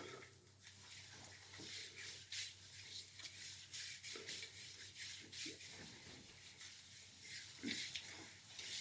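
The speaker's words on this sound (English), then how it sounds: "I'm going to use a little bit of product on my head. Give it a nice rub." Hands rubbing hair product onto a shaved head, a close, soft rasping and scrubbing with uneven strokes throughout, fairly quiet.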